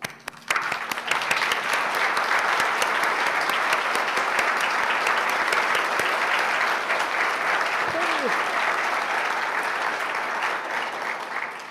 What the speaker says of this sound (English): Planning committee members, please stand as you're able for a round of applause.